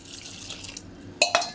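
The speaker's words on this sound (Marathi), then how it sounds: "तर मी यात टाकते आता पाणी" Water pours into a pot of cut cowpea pods being washed, a soft steady splash running throughout, then two sharper splashes at the end.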